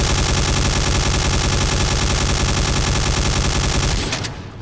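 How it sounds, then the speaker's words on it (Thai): G36 assault rifle in the Point Blank shooter game firing a long, continuous rapid automatic burst, loud and close, with dense evenly spaced shots that stop abruptly near the end. "ดูความรัวของปืนนะฮะ ปืนจะยิงรัวกว่าเดิมค่อนข้างเห็นได้ชัดนะครับ"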